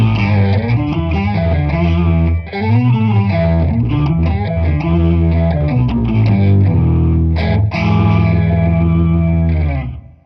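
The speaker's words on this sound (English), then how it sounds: "here's a patch on the Plethora called Organ Grinder that has an octave down and a phaser" An electric guitar through a Blackstar Amped 1 plays a melodic line with a thick octave-down layer and swirling phaser sweeps, loud and sustained, ending in a fade.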